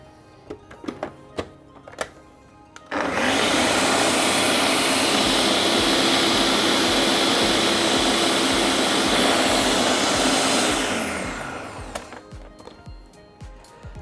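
Blender whirring through watercress, onion and potato soup with cold butter added, a loud steady roar starting abruptly after a few light clicks and tapering off near the end.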